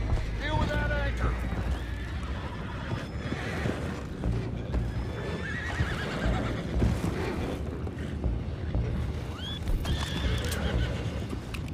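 Horses in the video game Red Dead Redemption 2 whinny repeatedly and clatter their hooves close by, amid rushing ambient noise and bursts of commotion, with voices talking over parts of it.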